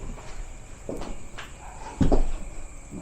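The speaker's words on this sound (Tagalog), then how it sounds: "Sino yung kumakatok na hindi namin alam kung saan galing?" Knocking of unknown origin: a few dull, irregular thuds at moderate distance, ending in a louder cluster of knocks, with no talk.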